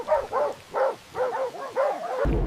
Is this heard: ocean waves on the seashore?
no